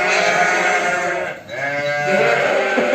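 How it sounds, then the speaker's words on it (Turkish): Lambs on a farm bleating loudly and close, a long wavering bleat followed by another after a brief dip, with no talk over it. "Arkadaşlar kuzuları bakın."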